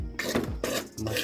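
Short scraping and clinking bursts of a utensil against a pan as noodles are tossed with spices, three quick close strokes separated by brief gaps.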